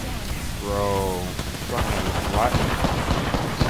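In a shooter video game, another team fires rapid gunfire that crackles through the second half, while a voice briefly talks over it.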